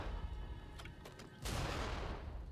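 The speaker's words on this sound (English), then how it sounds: "Perhaps it's worth popping a hand cannon onto it" A hand cannon in Nioh 2 fired at water barrels: several sharp cracking reports, then a heavy blast with a broad burst of spray and rumble that keeps going over steady background noise.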